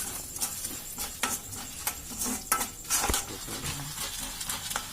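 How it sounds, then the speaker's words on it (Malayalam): Masoor dal and urad dal roast in hot coconut oil while a spoon stirs and scrapes the pan, giving irregular clinks and scrapes over a faint, steady sizzle. "വെളിച്ചെണ്ണ ചൂടാവുമ്പോൾ മസൂർ ദാലും ഉഴുന്നും അതിലിടണം"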